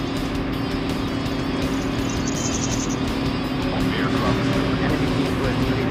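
Vehicle engine drone from a slow car without turbo in the mobile shooter Call of Duty Mobile, a steady low hum running throughout at even loudness, with game effects layered faintly on top.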